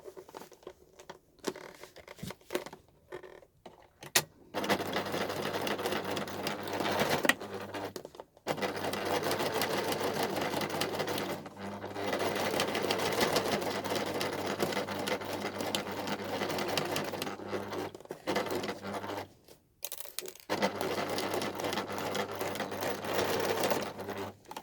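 A sewing machine stitches across the ends of fabric pouches for a hanging organiser, running in long steady bursts with brief pauses and stops between passes, close and fairly loud.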